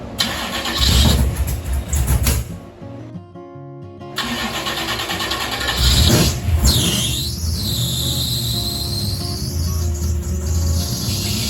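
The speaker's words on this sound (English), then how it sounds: "Is it really a Ford if the belt doesn't squeal?" A 1000hp small-block Ford V8 cranks and fires up with a rising belt squeal, then settles into a loud, steady idle close by, with a brief pause before the start.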